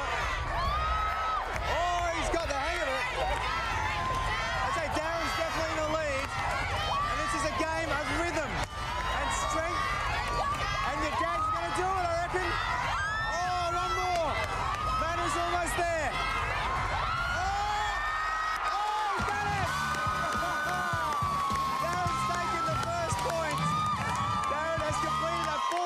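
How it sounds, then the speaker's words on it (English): A lively crowd cheers and whoops for racers at the start of a race, a continuous roar of shouting and clapping with children's voices mixed in, loud and sustained throughout. "Plenty of crowd support."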